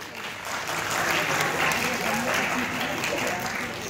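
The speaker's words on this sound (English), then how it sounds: "Please give him a huge round of applause." Audience applause at a freshers event fills the hall, steady and sustained clapping throughout, fairly loud and continuous with a slight swell in the middle.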